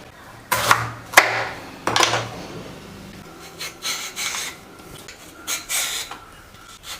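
Raw green plantain is peeled with a blade to make bajji, giving a few scraping rasps near the start followed by softer intermittent scraping strokes close by.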